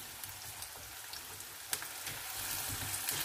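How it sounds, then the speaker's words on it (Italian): Potatoes fry in a pan, a soft, steady sizzle and crackle with scattered small pops, fairly quiet and close, with no talking. "Con l'aiuto di una forchetta le sistemo e lascio friggere queste patate per circa"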